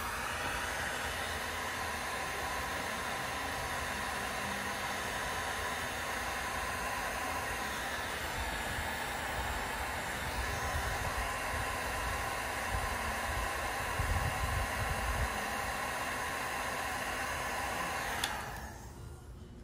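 A heat gun blows a steady, loud rush of hot air onto a wire connector on a 2023 Honda Accord third brake light, continuous and close for about eighteen seconds before cutting off.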